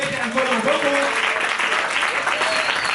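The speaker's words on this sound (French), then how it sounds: "Est-ce que nous pouvons acclamer le Seigneur?" A congregation at a church service claps together in steady, dense applause, loud and continuous throughout, with voices mixed into the clapping.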